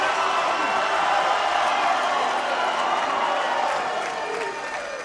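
A pool hall crowd at the Mosconi Cup applauds and cheers loudly in a sustained wash of clapping and shouts that fades slightly toward the end, with voices mixed in.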